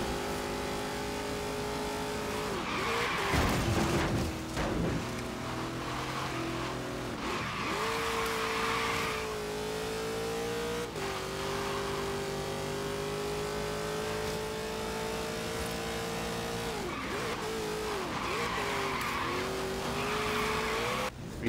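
Race cars in Forza Horizon 3 skidding with engines revving and held at high pitch, tires squealing in several bursts, a continuous loud game mix with no voices.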